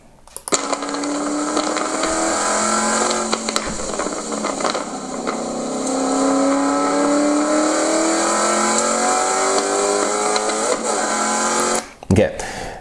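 A Mustang race car at Apex Motor Club drives through a track corner, its engine note loud and sustained with rising and falling pitch as it brakes and accelerates, with a brief dip near the end.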